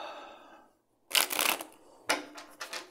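Tarot cards shuffled by hand in two bursts of riffling and flapping, close and fairly quiet, after a short pause with no talk.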